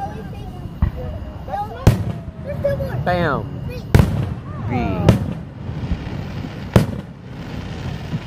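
Slaps fireworks go off outdoors in four sharp, loud bangs spaced a second or two apart, with excited voices talking over and between them.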